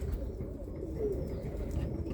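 Birmingham Roller pigeons coo softly from a loft, a low continuous murmur of several birds close by with no talk.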